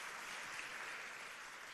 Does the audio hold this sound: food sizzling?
no